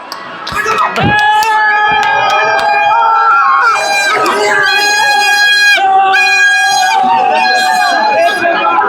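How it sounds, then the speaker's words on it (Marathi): Jubilant crowd at a village palanquin procession for the goddess Raibadevi, a loud continuous roar of cheering and shouting voices with whistles and music-like tones running throughout, with voices calling out close by. "जल्लोष बघताय जल्लोष बघताय आज तो जल्लोष आहे"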